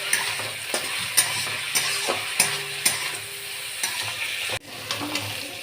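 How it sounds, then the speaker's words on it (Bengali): Chowmein noodles fry in a pan with a continuous soft sizzle, punctuated by regular spatula taps and scrapes about every half second, then a brief clatter near the end. "এখানে ভাজাটা হোক।"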